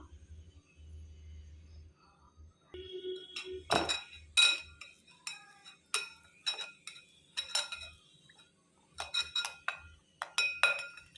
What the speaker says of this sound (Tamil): தோல் எடுத்துகிட்டு இந்த சீஸ் கிரேட்டர் இருக்குல்ல, இதில் வந்து உருளைக்கிழங்கு துருவி எடுத்துக்கலாம்.